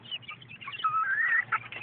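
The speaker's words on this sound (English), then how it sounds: "Hey, chickens." Backyard homestead chickens give soft, brief clucks and a short rising call, faint and close in a quiet wet garden setting.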